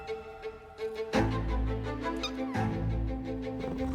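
Cats meowing in a trailer for the cat video game Catly, a few mewing calls rising over a swelling musical score that enters loudly partway through and carries on beneath them.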